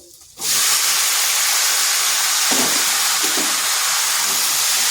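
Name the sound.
bottle gourd added to frying spices, hissing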